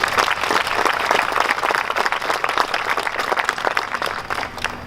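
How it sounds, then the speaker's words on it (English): Audience at a Memorial Day event applauding the memorial committee, a steady, full round of dense clapping that holds at even loudness for several seconds. "so one more round of applause for them, please"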